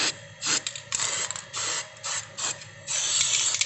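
A spray bottle squirts cleaner onto a corroded refrigerator pipe in a series of short, hissing bursts, irregularly spaced and fairly close, ending in a longer spray.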